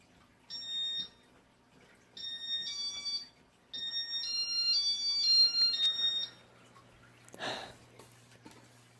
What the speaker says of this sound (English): piezo on this board is obnoxious